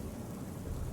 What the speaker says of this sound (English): The storm is still raging outside.